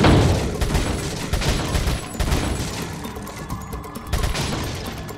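Dense, continuous gunfire and impacts from the video game Resident Evil 4 on PS4, loud and close, with repeated shots blending into a busy clatter and several sharper bursts throughout.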